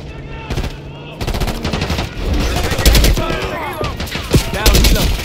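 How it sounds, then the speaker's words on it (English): Rapid bursts of automatic gunfire and scattered shots crackle continuously, loud and dense, with faint voices mixed into the battle noise, from a battle in the campaign of the video game Call of Duty: Black Ops 6. "We've got gunfire to the right."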